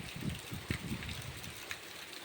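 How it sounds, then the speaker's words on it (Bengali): Heavy rain pours down in a dense, steady hiss, with occasional low gusty thumps and no voices. "খুব জোর বৃষ্টি"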